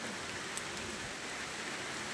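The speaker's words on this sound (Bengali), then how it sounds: "অনেক বৃষ্টি হচ্ছে, অনেক" Heavy rain driven by strong wind during a storm, a dense, steady broadband hiss of downpour that stays loud and unbroken throughout with no voices.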